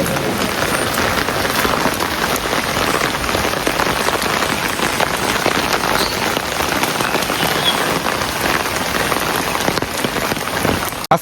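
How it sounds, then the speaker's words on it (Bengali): Heavy rain drumming on surfaces close by, a dense, steady patter of drops that stays loud and unbroken throughout with no voices. "আজকে যে বৃষ্টি"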